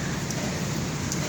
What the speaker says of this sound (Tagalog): Rain, go away. I love walking in the rain